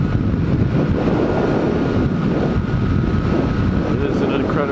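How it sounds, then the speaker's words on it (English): Strong wind buffets the microphone while a Yamaha FJ-09 motorcycle is ridden on a commute, a constant heavy rumbling roar with a faint engine hum beneath. "It's super windy out here today"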